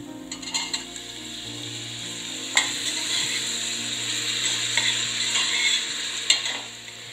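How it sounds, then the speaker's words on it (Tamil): Cut tomatoes sauté in a pan for brinjal chutney, a steady close sizzle with a few sharp clinks and scrapes of a spoon stirring against the metal. "தக்காளி ஓரளவுக்கு நல்லா வதங்கிடுச்சு"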